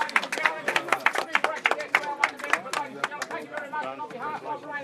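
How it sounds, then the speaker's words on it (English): Applause and clapping from a crowd at a live house auction in Bexley, dense rapid claps with chatter mixed in, loud and close, fading slightly toward the end. "Big round of applause there, ladies and gentlemen."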